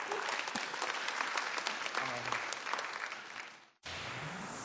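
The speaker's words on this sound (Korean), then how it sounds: "박수 한번 보내주십시오." Audience applause during a classical music lecture on Janáček, a dense wash of clapping that cuts off abruptly near the end before a new steady sound starts.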